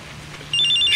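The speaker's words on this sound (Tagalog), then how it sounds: "Cellphone ko ba ang kumikiriring?" A cellphone begins ringing partway through, a bright, warbling electronic ring that comes in loud and close after a short stretch of quiet room noise.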